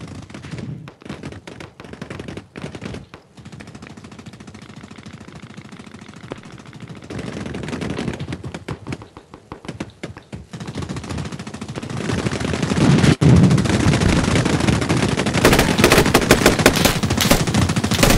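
Automatic gunfire rings out in the military shooter Squad, with bursts and single shots cracking throughout, growing louder and denser toward the end amid a battle's background rumble.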